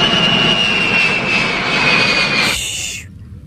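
A military aircraft jet engine roars loud and close with a steady high whine, then cuts off sharply near the end.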